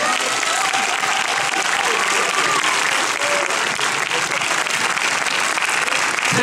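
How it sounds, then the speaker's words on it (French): An audience at a film premiere applauds a guest named Hugo, a steady wash of clapping from a crowd that holds loud and unbroken throughout. "On peut applaudir Hugo, messieurs, dames, s'il vous plaît"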